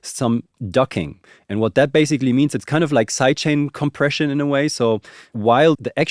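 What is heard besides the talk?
None of the usual background noises is heard.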